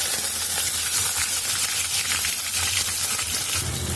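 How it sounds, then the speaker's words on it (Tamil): Small onions fry in hot sesame oil after mustard seeds have popped, a loud, steady broadband sizzle that continues without a break, with no voices over it. "கடுகு பொரிஞ்ச உடனே வெங்காயம் போட்டுக்கணும்,"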